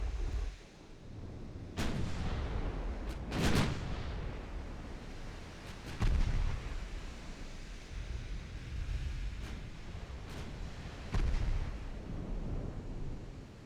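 Heavy naval guns booming in Ultimate Admiral Dreadnoughts, a 1909-era sea battle: several loud, separated blasts rolling over a steady background of wind and surf, with no talking.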